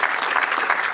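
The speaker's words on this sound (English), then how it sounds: "So let's give their team a big round of applause as well." A brief burst of audience applause at an annual charity celebration gala, dense and steady clapping from a room of people for about a second.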